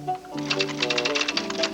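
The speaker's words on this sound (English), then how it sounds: "New typewriter, huh?" Typing on an IBM Wheelwriter Series 2 electronic typewriter, a fast run of sharp mechanical key strikes in an irregular rhythm over a steady tonal hum, fairly close and moderately loud.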